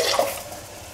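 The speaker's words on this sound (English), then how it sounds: "Put a little bit of water in there." Water runs and splashes into an emptied tomato can as it is rinsed for a sauce, a steady close trickle with no talk.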